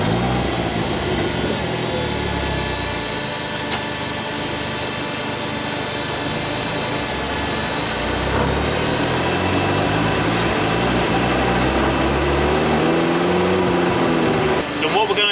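A tuned VW Polo 6N2 with a turbocharged 1.8T 20v engine revs through a straight-line run on a damp, slightly uphill slope, its steady, loud engine drone rising and holding with some speech mixed in.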